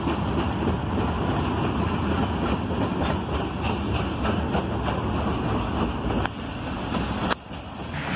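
A Chessie System freight train rolls past, slowing for a yellow signal, a steady loud rumbling roar of cars with wind noise, dropping slightly in level toward the end.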